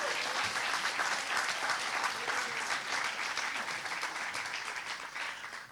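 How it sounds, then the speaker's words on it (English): Audience at a summer party applauding teachers, a dense, steady round of many hands clapping, fairly close and sustained before tapering off slightly at the end. "I think they need a big round of applause."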